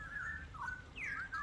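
A straw-headed bulbul (cucak rowo), a wild-caught bird being tamed, gives a few clear, sliding whistled chirps close by over a steady low background hum.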